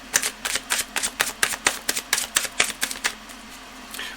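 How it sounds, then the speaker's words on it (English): A deck of tarot cards being shuffled, a quick run of about a dozen crisp rhythmic riffles and snaps close by that stops before the end, with no voices. "the cards were already pre-shuffled, but I have to go through the ritual of getting them pristine up to the very last second"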